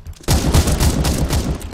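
Gunfire erupts in the CS:GO video game after a grenade goes off, a sudden loud onset followed by a dense, sustained fusillade of rapid shots close up with no talk over it.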